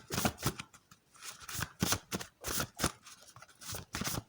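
A deck of tarot cards is shuffled by hand in quick, uneven riffling bursts, close and crisp, with no talking over it.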